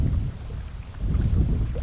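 Strong wind buffeting the microphone during a solo canoe trip, a continuous low roaring gust noise that swells and dips, loud and close, with no talk.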